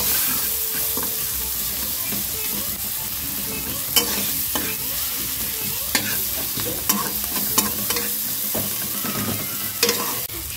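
Onion and tomato masala stir-fries in a pan with a continuous close sizzle, punctuated by scattered spoon scrapes and knocks against the pan, with no talk.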